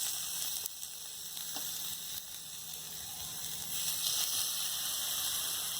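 Beef sizzling on an AJ EG-002 electric grill and hotpot, a steady dense hiss of frying meat throughout with a few faint clicks of turning, close and continuous, no talk.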